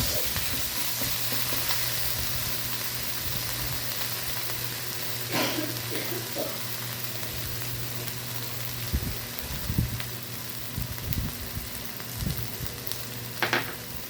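Spice paste sizzles steadily in a hot pan for a spicy brinjal karanchi, with occasional scraping stirs and clinks of a spoon against the pan standing out above the constant frying hiss.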